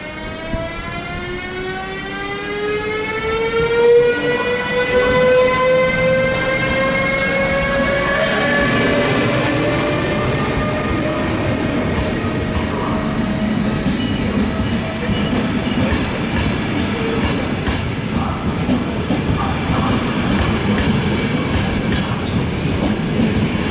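A RegionalExpress train pulls out of Bratislava main station, with a rising whine of traction motors and steady wheel rumble that grows loud and close, and the clatter of rail joints comes through alone.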